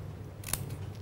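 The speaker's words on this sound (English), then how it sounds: "we need to use the scissors" Scissors cut paper in a quiet classroom craft setting, a single brief crisp snip close by against low background hum.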